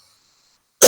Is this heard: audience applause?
no